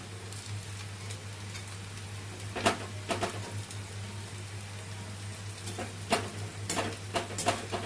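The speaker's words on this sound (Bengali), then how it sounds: "এবার আপনারা একটু ফ্লেমটাকে বাড়িয়েও ভেজে নিতে পারেন" Pumpkin-leaf fritters (pui patar bora) frying in hot oil over a raised flame, a steady close sizzle with occasional sharper pops and spatters, with no talk.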